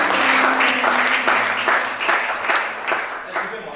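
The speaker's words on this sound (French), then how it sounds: "Acclame pour Jésus." A church congregation applauds for Jesus, a dense wash of clapping from a crowd that swells and pulses for a few seconds, with voices calling out within it.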